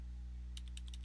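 Keystrokes on a computer keyboard enter a domain name during Active Directory setup: a quick run of about seven light clicks over a steady low hum, with no talk.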